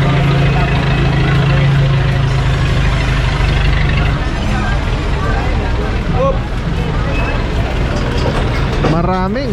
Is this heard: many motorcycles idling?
yes